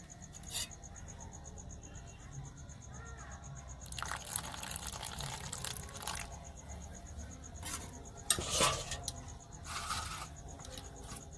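Chitoi pitha batter stirred and mixed with juice to make two colours, giving faint scraping and swishing that swells in brief bursts over a quiet background.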